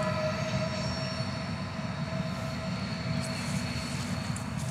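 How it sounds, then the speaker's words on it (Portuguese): A passing train rumbles loudly and continuously with droning engine tones and a steady low roar, near and unbroken throughout, with no talk. "escuta lá o trem"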